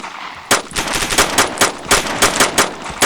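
Automatic gunfire rings out in the DayZ video game as loud, close bursts of rapid shots with a few brief gaps between volleys.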